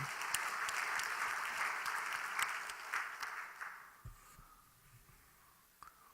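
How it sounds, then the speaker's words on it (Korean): Applause from a congregation during a Sunday worship service at a church in Haeundae, a steady wash of many hands clapping that tapers off, leaving a quiet room with a few faint knocks. "박수로 하나님 앞에 영광 돌리겠습니다"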